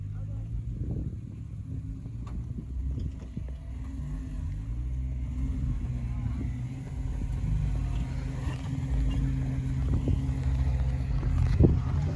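Hemi-swapped Jeep TJ crawls an off-road trail in winter, its engine a steady low rumble with occasional revving and rattles throughout, fairly close.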